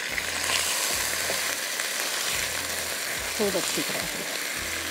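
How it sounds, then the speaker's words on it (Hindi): Chicken sizzles and fries steadily in hot ghee with ginger and garlic, a continuous close crackle with occasional stirring scrapes, under a voice speaking briefly. "यहाँ पर चिकन को मैंने रख दिया है फ्राई होने के लिए"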